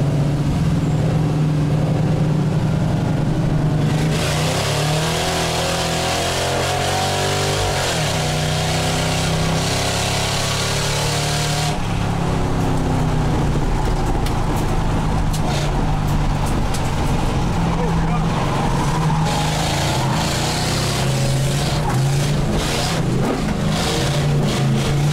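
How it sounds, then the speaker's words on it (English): A race car's engine, running below its best in an endurance race, drones loudly and steadily from onboard, its pitch rising and falling as it revs through gear changes and corners. "The engine's still, I feel like, not great"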